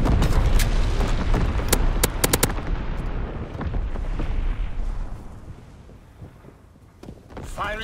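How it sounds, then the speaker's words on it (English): Heavy main battery guns of the battleship USS Texas fire in Call of Duty: WWII, a cluster of loud booming blasts early on followed by rumbling battle noise and a few more distant shots. "Firing primary battery."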